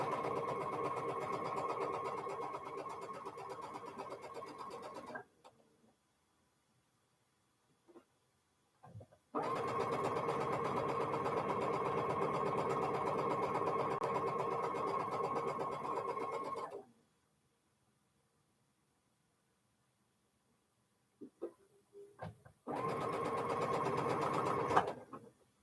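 A sewing machine stitching polka-dot pinwheel quilt blocks for a block-of-the-month project: three long, steady, close runs of fast motor whir and needle rattle, separated by quiet pauses with small handling clicks.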